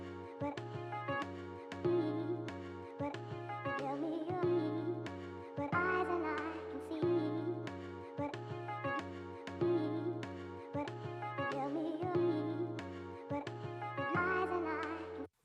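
A hip hop beat built from a chopped, vocal-free sample loop plays alone, with punchy kick and snare hits in a steady rhythm under layered melodic chords, filling the whole stretch at moderate loudness.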